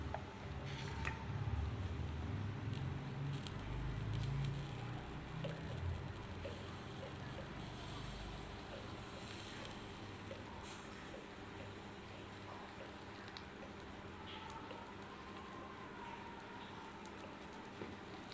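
Carrot and shrimp fry in oil in a pan, a continuous dense sizzle that is louder at first and then settles to a steady, softer crackle.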